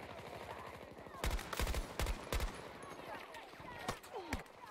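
Scattered gunfire in a Battlefield 2042 match, several sharp cracking shots in quick clusters over a low rumbling background, fairly distant and moderate in loudness.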